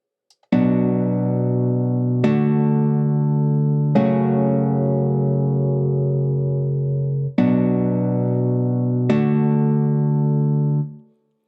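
MIDI chord pads play back in Cubase 11 as five sustained synth chords, each struck cleanly and ringing with rich harmonics, the third held longest, loud and steady with no talk over them.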